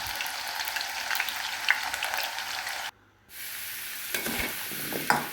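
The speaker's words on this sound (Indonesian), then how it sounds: "ini nanti kita goreng setengah matang aja ya." Ingredients for goat curry fried half-cooked in a pan: a steady, close, crackling sizzle that cuts out briefly near the three-second mark, then returns with spattering pops.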